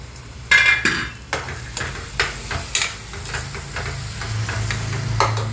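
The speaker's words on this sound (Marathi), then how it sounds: "बघा आपण झाकण काढत आहे" Lid lifted off a pan of tomatoes simmering on low heat for paneer bhurji, with a few sharp metallic clanks and scrapes over a steady low sizzle of cooking.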